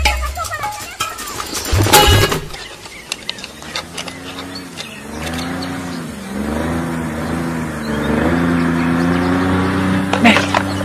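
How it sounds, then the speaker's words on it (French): Car engine revving in a French action film scene, rising and falling whines that swell several times over background noise and movement, with a sharp bang near the start. "un bruit de moteur à midi, descends."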